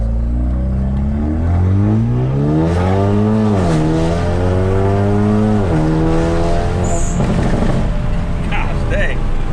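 Hyundai Veloster N with a DCT and bolt-on exhaust revs and shifts through repeated rising engine sweeps, loud and close from inside, ending in crackling pops, with people talking over it.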